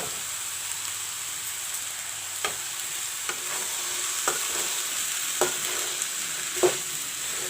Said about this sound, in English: Put in the chana also,